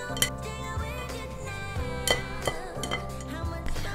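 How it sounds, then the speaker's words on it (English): Repeated metallic clinks and scrapes of a pastry blender working dough against a bowl, irregular and close, with no talking. "with the use of our pastry blender, we're gonna keep gently mixing it."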